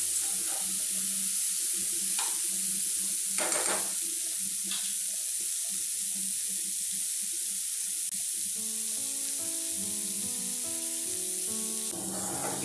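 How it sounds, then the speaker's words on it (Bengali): Vegetables fry in a pan for a lentil dal, giving a steady, soft sizzle throughout with a few brief clinks and stirring sounds, and no speech. "সবজিগুলোকে ভালো করে ভাজতে হবে, কারণ বেশ অনেক কটাই সবজি এর মধ্যে পড়েছে।"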